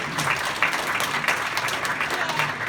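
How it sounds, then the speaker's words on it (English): An audience at a game demo and play night claps together in a steady round of applause, dense and continuous, close to the listener, with a little crowd noise mixed in. "one more round of applause for Matt."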